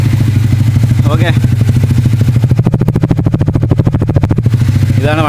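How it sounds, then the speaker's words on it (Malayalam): A Triumph motorcycle engine idles close by with a loud, steady low throb. The note stays even throughout, with a few faint chirping sounds on top. "വണ്ടി സാധാ പോലെ ഓണാക്കി ഇടുമ്പോൾ നമുക്ക് കിട്ടുന്ന സൗണ്ടാണിത്."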